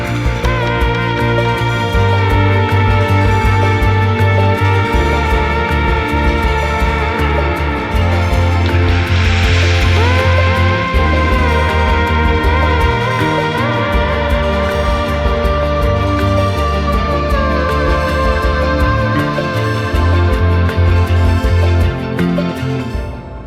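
A dreamy instrumental interlude plays, with a steady pulsing bass, layered sustained synths and a rising swell partway through, loud and continuous with no voices.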